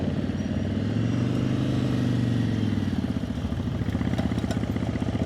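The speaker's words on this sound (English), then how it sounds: "You can hear when all of a sudden it's starting to bog. RPMs are too low." A motorcycle ridden slowly in a practice session lugs at very low RPM, its engine a close, steady, lumpy thrum with a pulsing low note that sags as it bogs.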